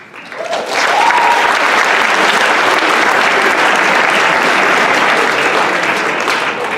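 An audience at a Bellringer Day ceremony breaks into applause that swells within a second and holds as loud, dense, continuous clapping.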